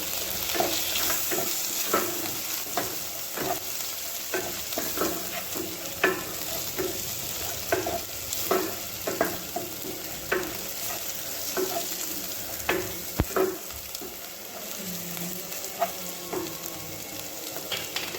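Grated ginger and salt fry and get stirred in a pan, giving a steady sizzle with repeated clicks and scrapes of a spoon against the metal. The sound stays close and moderately loud throughout, and no one speaks.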